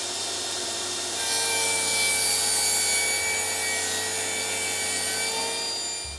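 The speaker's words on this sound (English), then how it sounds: "I'm going to cut those on a table saw with the tapering jig." A table saw with a tapering jig cuts tapers along wooden patio table legs, making a loud, steady whining buzz with a tonal ring as the blade bites into the wood for several seconds, running alone.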